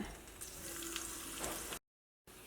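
Onion and curry leaves sizzle steadily in hot coconut oil with popped mustard seeds, a close, continuous frying hiss that cuts out abruptly for a moment before resuming.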